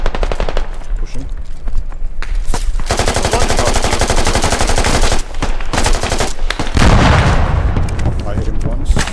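Rapid machine gun fire in a video game shootout, loud and close, with long sustained bursts broken by brief gaps, and players talking over the gunfire.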